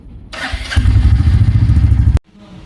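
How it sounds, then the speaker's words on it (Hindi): A Royal Enfield motorcycle engine cranks with a brief whirr and then catches, settling into a loud, close, low thumping idle for about a second and a half before cutting off abruptly. "अब इसका हम एग्जॉस्ट साउंड चेक करते हैं।"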